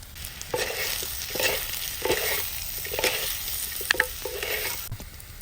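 Cooked sweet potato pieces are stirred in a pan, with repeated rhythmic scraping strokes over a light sizzle, close and clear with no talking.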